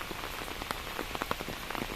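Steady rain pattering on a surface in Kerala during the May 2024 monsoon, a dense, even hiss with scattered sharper drops landing close by, no voices.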